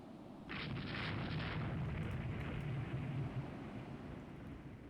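A torpedo explosion in a naval video game: a sudden, heavy, rumbling blast that swells and rolls on for several seconds with a bright hiss of spray and debris, loud and close.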